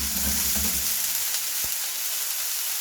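Peas sizzle and fry in a hot pan while a langoustine risotto is being cooked, giving a steady, close crackling hiss with some stirring clatter early on.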